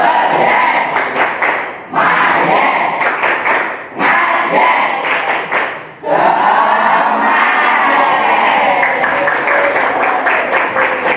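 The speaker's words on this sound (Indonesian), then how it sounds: "Tepuk semangat yes." A class of children doing a rhythmic 'tepuk semangat' spirit clap, loud bursts of clapping and shouting voices in three short chanted rounds, then a longer sustained cheer.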